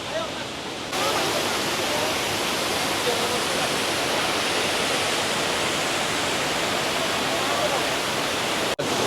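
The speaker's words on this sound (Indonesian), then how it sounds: "air terjun mini." A small waterfall at a scenic gorge rushes in a loud, steady, broadband roar heard close by, starting abruptly after a brief quieter moment and continuing unbroken, with a sharp momentary dropout near the end.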